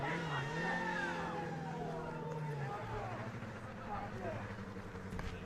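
A Formula SAE race car pulling away at an autocross event, its engine note climbing in a rising whine at a distance, mostly beneath a commentator's steady talk.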